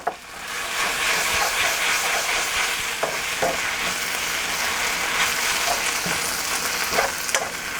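Sauce sizzles and hisses steadily in a hot pan with noodles for a healthy summer noodle dish, a continuous frying crackle with occasional stirring clatters, close and fairly loud with no talking.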